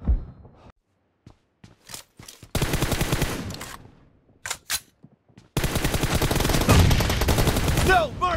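Bursts of automatic gunfire in a one-on-one team deathmatch video game, short scattered shots first, then two long sustained volleys, loud and close, with a brief voice in between.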